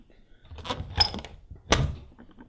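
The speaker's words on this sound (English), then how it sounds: "Something ran up the stairs inhumanly fast and slammed the door right beside the camera" A door slams shut right beside the camera in a dark stairwell just after something rushes up the stairs, with a first thud and then a second loud bang close by.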